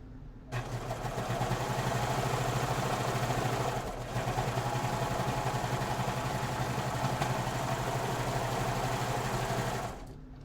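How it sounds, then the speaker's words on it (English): A serger overlock sewing machine runs steadily while stitching the seam of a thrifted shirt, a loud, fast mechanical whir with a rapid needle clatter that starts abruptly, dips briefly midway and stops near the end, with no talking. "pretty happy with the serger taking this on"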